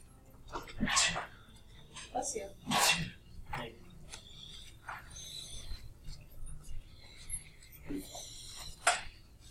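Several sharp, breathy sneeze-like bursts come close to the microphone, spaced a second or two apart and fairly quiet, with whispered talk and faint rustling in between.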